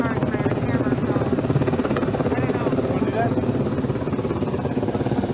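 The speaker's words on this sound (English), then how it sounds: "The helicopter is still on site, maybe just 100 or 200 yards above us." A helicopter hovers about 100 to 200 yards above a protest crowd at an overrun gas station, its steady rotor drone filling the background while crowd noise and voices mix in.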